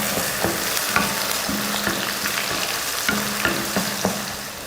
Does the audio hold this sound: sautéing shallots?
yes